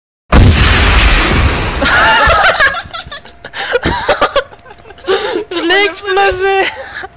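Loud, close rocket blast in the military shooter ArmA 3, a sudden booming burst that rings out for a couple of seconds, followed by excited voices and laughter.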